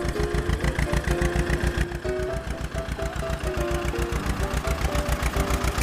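A tractor engine drives off with a steady, loud chugging pulse that keeps an even mechanical rhythm throughout, close and alone with no talk.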